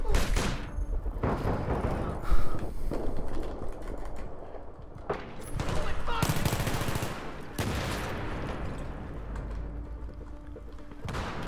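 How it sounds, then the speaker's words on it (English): Automatic weapon fire in Battlefield 3 Gun Master mode, loud close bursts of rapid shots broken by short pauses, with booms and mechanical clicks between them. "You gotta really pace yourself with the fire rate on this weapon."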